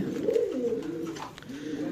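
A pigeon coos up close in low, rolling throaty phrases, two bouts with a brief pause between them.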